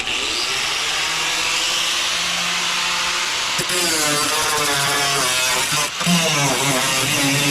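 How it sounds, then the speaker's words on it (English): A cutoff wheel grinds into the steel trunk floor of a Chevelle, a loud continuous whirring screech that wavers in pitch as it bites the metal, with fans running in the background. "I'm going to cut that off the back with cutoff wheel."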